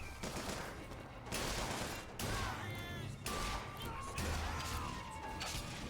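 Repeated bursts of video game gunfire crack out in loud clusters, with brief gaps between volleys and a steady background bed beneath.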